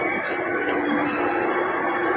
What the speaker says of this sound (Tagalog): Mahaba yan, train na yan.